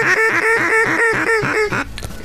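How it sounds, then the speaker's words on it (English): A large flock of ducks quacks steadily and loudly in rapid repeated calls as they fly in from all directions on a hunt, the chorus close and continuous before thinning out at the end. "When you see that many ducks coming in and coming in from all directions"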